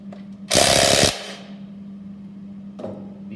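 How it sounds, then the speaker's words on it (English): A ratchet clicks in one quick, loud burst while loosening connecting rod nuts on an engine bottom end, with a low steady hum under it and a faint clink afterward. "sometimes connecting rods have a stud like this where you're loosening a nut"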